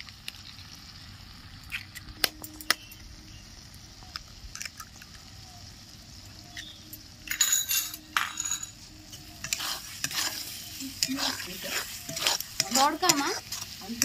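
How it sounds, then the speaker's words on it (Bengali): Two cracked eggs sizzle softly in a pan for egg tarka while a spoon stirs and scrapes, with clicks and scraping louder toward the end. "আমি 2টো ডিম ফাটিয়ে দিয়ে দিচ্ছি।"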